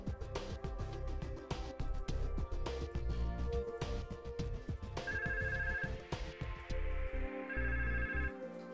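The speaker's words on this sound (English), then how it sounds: "The corresponding 3CX extension rings." A 3CX phone extension rings with an incoming call from an E1 trunk through a Yeastar E1 gateway, a steady electronic ringtone repeating in quick tonal bursts, clear and close, with no voices.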